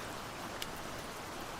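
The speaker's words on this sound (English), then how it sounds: "Let's watch the rain together for a bit." Rain falling at night, a faint, steady hiss of drops with one brief tick partway through and no voices.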